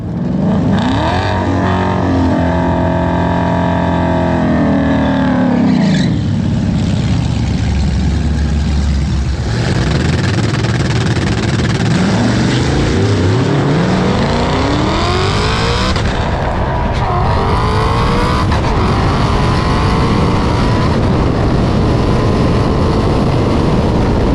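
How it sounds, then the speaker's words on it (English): A loud drag racing car engine revs and screams as it launches, rising in pitch through gear changes and roaring continuously close by. "once the car got up and moving, it actually runs pretty good"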